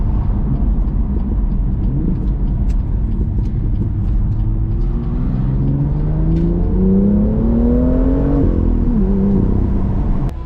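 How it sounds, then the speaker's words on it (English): A BMW car engine revs up and down in quick bursts while rev matching on downshifts, pitch rising and falling sharply over a steady road rumble, close and loud. "Also the rev matching on downshifts. Listen how quick this is."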